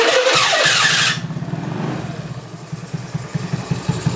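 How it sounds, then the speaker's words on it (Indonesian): Carbureted Honda Beat scooter engine restarting after a fault check on a rough idle, a loud burst of starter and revving that drops into a steady, pulsing idle putter, close by. "lalu mesinnya mati ya. Kita hidupkan kembali."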